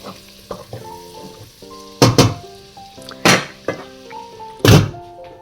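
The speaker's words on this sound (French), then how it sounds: "Voilà, les oignons sont en train de mijoter." Onions simmering in butter in a pan, a low soft sizzle punctuated by several loud clattering knocks and thumps of utensils and cookware, no speech.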